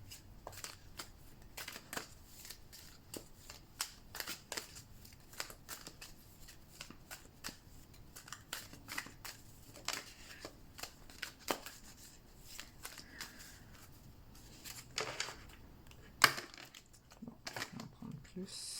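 Oracle cards being shuffled in repeated quick papery riffles and slaps, fairly soft and close, with small handling noises between bursts.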